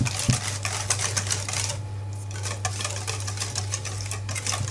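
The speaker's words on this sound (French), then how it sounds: "on va continuer à bien mélanger." Fast, steady tapping and clicking of a utensil against a bowl while banana muffin batter is mixed, close and continuous with a brief lull, over a low background hum.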